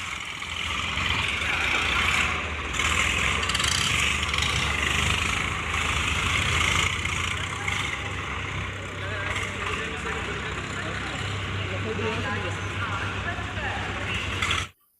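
Vehicles are driven into an NMG railway goods wagon, engines idling and rumbling steadily at close range for the whole stretch while someone talks over them.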